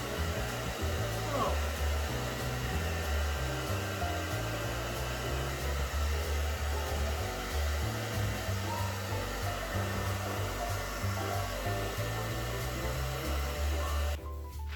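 A hair dryer blows steadily on freshly dyed, lilac-toned grey hair, a loud continuous whirring drone that runs the full length and cuts off near the end.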